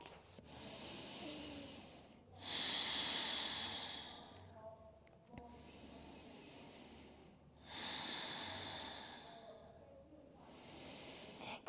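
Slow, deep breathing during a yoga low lunge, close and clear: long airy inhales and exhales alternating in a calm rhythm, several full breath cycles with brief quiet gaps.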